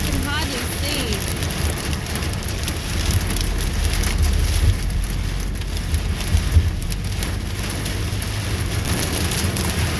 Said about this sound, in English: I think it's hailing.